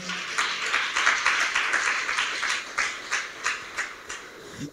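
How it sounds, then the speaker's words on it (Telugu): A church congregation at a Sunday service claps together in honour of Shadrach, Meshach and Abednego's faith, a steady rhythmic beat of hand claps that fills the room, close and lively with no speech. "శత్రుఘ్న మేషక్ అబేద్నెగో యొక్క విశ్వాసమును బట్టి ఒకసారి చప్పట్లు కొడదామా?"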